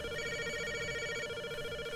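A phone rings in the video game Rust, a steady electronic ringing tone heard continuously at moderate level, with no talk over it.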